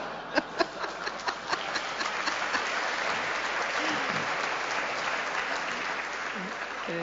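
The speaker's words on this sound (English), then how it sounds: "Interesting that you would applaud that." An audience begins with a few sharp, separate claps that swell into sustained, even applause, while faint voices murmur underneath.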